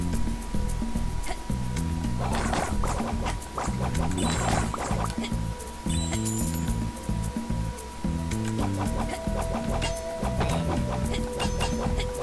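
An elevator moves in the video game Evoland 2: a continuous rumbling mechanical drone with rhythmic chugging pulses, brief chimes and tonal notes layered over it, steady and close with no voices.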